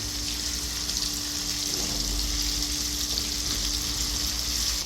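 Fish frying over a low flame in a pan, a steady close sizzle and hiss running unbroken throughout, with no talk.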